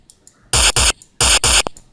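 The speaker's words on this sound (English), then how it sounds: "And a crazy distortion. Like we can hear the distortion on the kick." Heavily distorted kick drum from the DnB Machine VST plugin, in four loud, saturated broadband hits paired in two quick doubles, with faint ticks between them.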